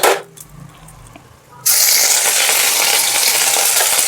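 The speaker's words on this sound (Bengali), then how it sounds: "এটা একটু হালকা করে ভেজে নেব যাতে আদার কাঁচা গন্ধটা চলে যায়" Ginger and green chili paste frying in a pan while making singara: a soft clatter at first, then a loud, steady, close sizzle that holds to the end.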